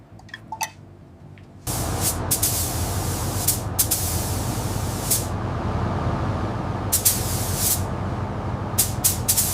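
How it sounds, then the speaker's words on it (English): A spray gun suddenly starts hissing baby blue paint onto the rear quarter of a 1980 Mercedes W123 240D, a loud continuous close hiss with brief pulses where the trigger eases, after a few quiet clicks. "Ready to spray."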